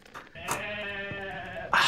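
Goats bleat in the video game Odyssee, several short close calls overlapping in a rapid run lasting under two seconds, with a louder bleat at the end.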